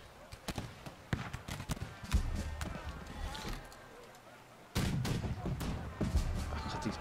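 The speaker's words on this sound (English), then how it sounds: "God, these cannons have been so effective this game" Cannons fire during a March to Glory skirmish battle, sounding as a string of sharp booming reports at uneven intervals over a low rumbling battlefield din.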